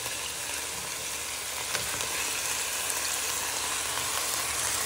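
Onion, garlic and chilli sizzle and crackle steadily in a hot frying pan, with faint scraping from being stirred, close and continuous with no talking.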